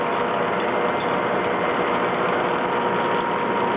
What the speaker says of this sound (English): here comes the CNC again